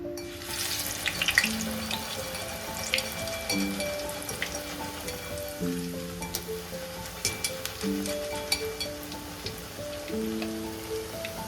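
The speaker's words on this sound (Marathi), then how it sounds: "आता आपण चिवडा तळून घेऊया" Chivda fries in hot oil with a steady, dense crackling sizzle and scattered pops that run the whole time, close up. Soft background music plays under it.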